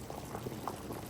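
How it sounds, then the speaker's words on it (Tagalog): Pork rib sinigang broth boils in a pot, giving a steady, fairly quiet bubbling and gurgling that continues throughout with no voices. "Kulo na siya."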